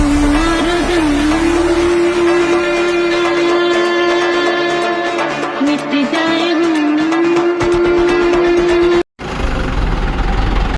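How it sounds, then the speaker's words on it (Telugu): On a bus ride to Bhubaneswar, the engine drones loudly and steadily with a wavering tone, while road rumble continues beneath it. The noise cuts out briefly near the end. "ఫైనల్గా అయితే భువనేశ్వర్కి బస్సు ఎక్కేసాం."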